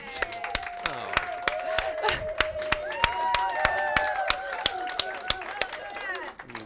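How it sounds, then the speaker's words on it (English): An audience at a Center for Spiritual Living gathering on Kauai claps in sharp, evenly spaced beats, moderately close. A person keeps talking over the clapping throughout. "give my beautiful husband another hand of applause"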